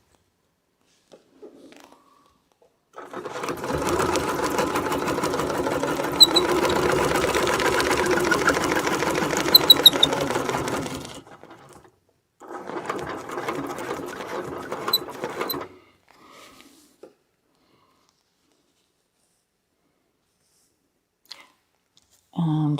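An embroidery machine stitches out a wreath design in a rapid, even mechanical chatter, one long close run of about eight seconds, a pause, then a shorter run, with quiet gaps and a brief spoken word.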